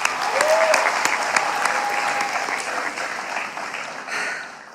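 A studio audience at the roast comedy show Roast (吐槽大会) breaks into loud, sustained applause, a dense wash of clapping that slowly thins, with a brief whistle and faint voices beneath.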